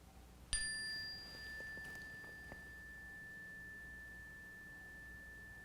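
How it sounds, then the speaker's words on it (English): A single meditation chime struck once, ringing with a clear bright tone that hangs and slowly fades over several seconds in a quiet room. "the sound of this chime, helping your mind focus in the present"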